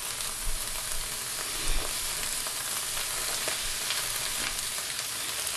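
Wild mushrooms fry in butter in a non-stick skillet, giving a steady close sizzle and crackle with an occasional louder spatter, no voices.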